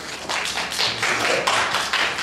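A live quiz-show audience in Ann Arbor claps to vote for an answer, giving a steady patter of many hands over about two seconds.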